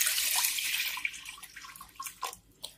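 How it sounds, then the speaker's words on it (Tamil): Water poured into a wide pressure cooker to about a quarter full, a bright splashing gush that tapers into scattered drips and small splashes at close range. "இதில் தண்ணி, இந்த குக்கரோட கால்வாசி அளவுக்கு தண்ணி ஊற்றிடணும்."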